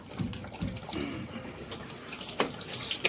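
Water from a Worcester Bosch boiler pressure relief valve draining into a sink, making a steady close splashing trickle that keeps going throughout with a few brighter spatters and no voices.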